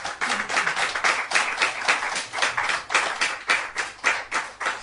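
Steady audience applause at a devotional gathering in Manchester, UK, many hands clapping densely and evenly for several seconds with no voices.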